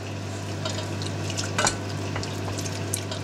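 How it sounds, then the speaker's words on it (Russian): Spoon stirring a cream and flour sauce with butter in a saucepan, quick scraping and light clinks over a steady hum, close and continuous. "Продолжаем энергично перемешивать."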